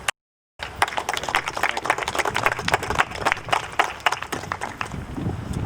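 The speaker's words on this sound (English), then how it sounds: "Will you please give our federal and local state officials another round of applause" A town hall audience claps for federal and local state officials, steady dense applause starting after a brief silence and holding at a fairly loud level throughout.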